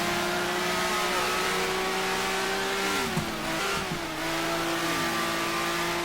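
A 1970s Ferrari race car engine in GTR2 screams at high RPM, a loud sustained whine that dips briefly through gear changes and climbs again, steady and close throughout.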